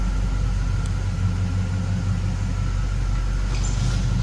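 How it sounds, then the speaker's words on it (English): A 1971 Pontiac T37 fitted with an LS 5.3 V8 and 4L60 transmission rumbles along on a drive, a steady low engine drone with road noise throughout and no speech. "We'll take her out for a spin."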